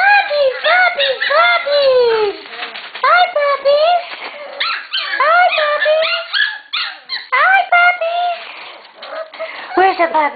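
A litter of puppies whimpering and yipping close up in loud, rapid, overlapping high-pitched cries that continue with brief pauses, while a person talks over them.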